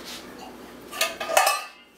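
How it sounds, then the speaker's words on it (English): Metal pots clatter and clink as they are handled for a homemade chamois cream, a few close knocks and scrapes over roughly two seconds, with no talk. "You need 2 pots, something like this."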